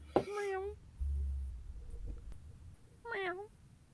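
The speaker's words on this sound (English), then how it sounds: "I have to go get this meowing cat off of my microphone" A pet cat named Paxton meows close to the microphone, three distinct meows with rising-falling harmonic calls, separated by low rumbling handling noise.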